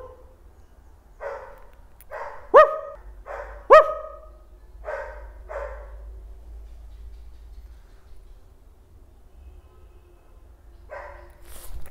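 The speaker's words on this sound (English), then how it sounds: "Stop barking." A dog gives a series of sharp barks and yips, several in a quick cluster with two louder peaks, then a pause and one more short burst near the end, close by with no talk over it.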